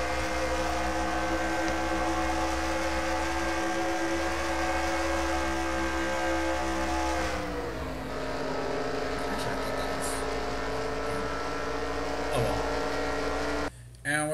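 An onboard race car engine in a NASCAR-style sim race drones loud and steady, then its pitch drops and shifts partway through, with a brief cut near the end.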